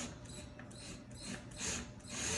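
A ratchet clicks in quick repeated strokes while a bolt on a kitchen open-shelf bracket is tightened, a close, faint metallic ticking in short bursts with no talk.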